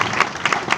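Worshippers at a Sunday church service clap their hands together in a brief, lively burst of rhythmic clapping, loud and close, with crowd noise mixed in.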